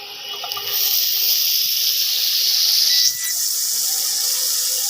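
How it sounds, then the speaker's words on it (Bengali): Butter hitting a hot wok gives a loud, continuous hiss and sizzle close by, steady throughout, with a slight shift in tone midway. "এবার বাটারটা দিয়ে দেবো"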